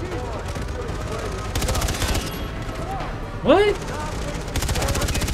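Gunshots fired at barrels in Far Cry 3, with bursts of gunfire that crack repeatedly over a steady background of combat noise, plus a brief voice and a sharp sweeping effect partway through.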